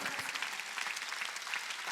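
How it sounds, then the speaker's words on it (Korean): A church congregation at a Sunday worship service claps together in a dense, steady wash of applause that fills the room with no pause. "박수 치라"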